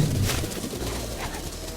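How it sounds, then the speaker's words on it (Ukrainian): Pigeons cooing in an animated cartoon, a soft low burbling coo under a busy, noisy background for a brief moment. "Дивно, голуби летять в одному напрямку."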